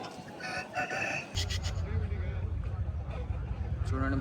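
An Aseel rooster crows at a busy rooster market, heard amid steady crowd chatter and market noise, with voices talking close by throughout.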